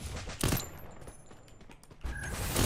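Gunfire in the mobile battle royale game Free Fire Max: loud bursts of shots near the start and again toward the end, with a quieter stretch of mechanical clatter between them.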